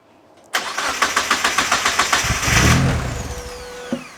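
A car with a low battery, hooked to a jump pack, cranks in a rapid rhythmic chug for about two seconds, then catches and fires into a rising engine roar. It settles toward idle, close and loud.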